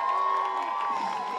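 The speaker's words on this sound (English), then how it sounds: "Edmonton going nuts right now, cheering on Daniel Dhers" Spectators at a BMX freestyle park World Cup final in Edmonton cheer for rider Daniel Dhers, with a loud, sustained roar of shouting and whooping voices over a short stretch.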